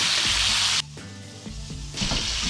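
Steak sizzles loudly in hot oil in a frying pan, a dense close crackle that drops briefly as the meat is flipped, then surges back to full hiss.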